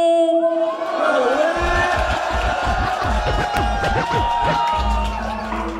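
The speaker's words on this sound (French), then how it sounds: "Je vous prie d'accueillir sous vos applaudissements et Phrazy" Crowd at a French rap battle contest final cheering and whooping loudly, with shouts and voices over continuous noise, nearby and sustained throughout.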